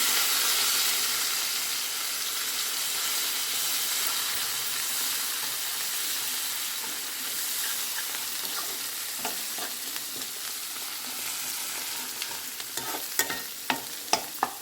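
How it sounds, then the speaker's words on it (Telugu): Ginger garlic paste fries in a pan with a steady, close, hissing sizzle, joined near the end by sharp clicks and scrapes of stirring. "ఇక ఇప్పుడు అల్లం వెల్లుల్లి పేస్ట్ చేసేద్దాం"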